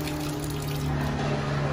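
Water runs steadily from a freshly unclogged air conditioner drain line, a continuous close trickle and gush with no break throughout.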